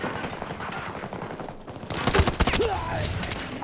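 A grenade launcher fires in the video game Battlefield 2042, with a sudden loud burst of blasts and rattling gunfire cutting in after a low rumbling lull and then continuing as dense combat noise.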